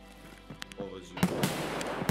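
Gunfire in the shooter game Escape from Tarkov, with several sharp reports cracking in quick succession, near and fairly loud, following quieter clicks and handling sounds.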